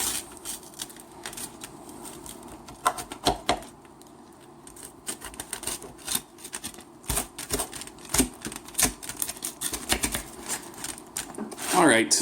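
Knife or cutter slicing through a Giuseppe Rising Crust four cheese frozen pizza, giving repeated crisp crunching and scraping strokes at close range, with a person talking briefly between cuts.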